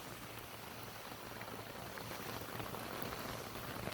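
Water from a hose sprays across a River Country Products Trekker 1 tent in a back yard, a faint, continuous hiss and patter like steady rain on fabric.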